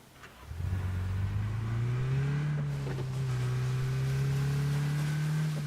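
A car engine in the PUBG video game starts up and revs, rising in pitch then holding a steady, loud drone as the vehicle drives, with no talk over it.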